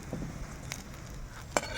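Mud shrimp fritters frying in oil over low heat, a faint steady sizzle with a couple of small clicks and pops.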